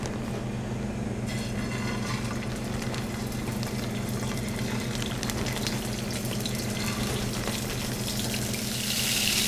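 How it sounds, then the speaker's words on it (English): Italian sausages sear in a hot pan with a loud, dense, continuous sizzle that stays steady throughout, beneath a constant low hum. "we're gonna take our Italian sausage that you wanna make sure you've thawed out properly. And we are going to sear those off"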